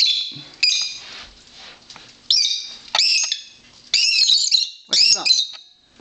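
A pet bird in a home aviary with a parrot, cockatiel, budgies and lovebirds gives five loud, close, harsh squawks in a row, separated by short pauses, alone without speech.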